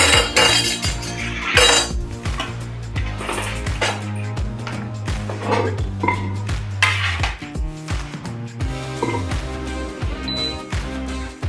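Roasted sweet potatoes, onions and about eight garlic cloves are scraped and tipped into a soup pot, a steady run of clanking metal utensil and cookware knocks with no talking.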